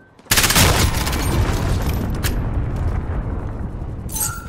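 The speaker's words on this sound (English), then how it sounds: "Enemy cruise missile incoming!" A cruise missile explodes in Call of Duty: Modern Warfare with a sudden loud blast that swells into a sustained rumbling roar, slowly fading over several seconds, with a brief sharp flare near the end.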